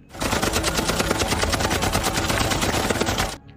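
Sustained automatic gunfire from a military attack on a Taliban group in a war film, following a sniper shot: a dense, loud, rapid volley of shots running nearly continuously for over three seconds before stopping abruptly.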